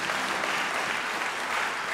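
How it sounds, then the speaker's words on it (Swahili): Applause from a church congregation during a Swahili Lutheran service installing a parish treasurer, steady dense clapping from many hands filling the room, continuous and fairly loud throughout. "Basi tumshukuru Mungu tena kwa makofi mengi."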